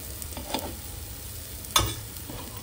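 Appe being turned and lifted out of a hot appe pan, with a light continuous sizzle and one sharp metallic scrape partway through, close by and with no talk.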